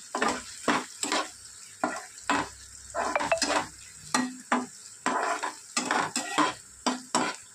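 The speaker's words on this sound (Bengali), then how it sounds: "এবার একটু নেড়ে ছেড়ে নেব।" Chopped tomato and grated ginger sizzle in a pan as a utensil stirs them, bursts of scraping and hissing in an irregular rhythm with short pauses between strokes, close and without talk.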